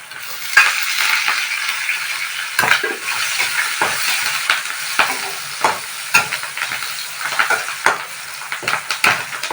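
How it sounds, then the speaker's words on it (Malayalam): Curry leaves dropped into frying masala for a chickpea curry, giving a loud, close crackling sizzle with rapid repeated stirring and scraping strokes. "ഇനി നമുക്ക് കരിയാപ്പലിടാം"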